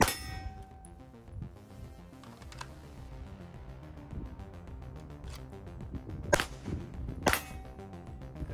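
A CZ 75 SP01 pistol fires a few sharp shots a second or so apart at a steel target during competition practice from a holster, each crack followed by a bright metallic ring of the struck plate.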